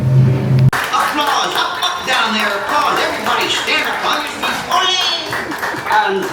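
Audience applause at a live Disney World theme park show, a dense patter of hands clapping beneath an announcer's amplified voice and music.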